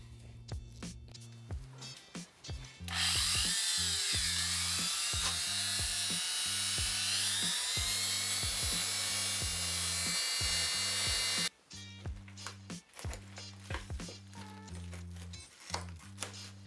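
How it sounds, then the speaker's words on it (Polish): A small Dremel rotary tool whines steadily for several seconds while cutting a fibreglass lamp flap from an EOS, loud and close over a background music track. "Na szczęście klapa z EOS-a to włókno, także z tym sobie poradzi malutki dremel."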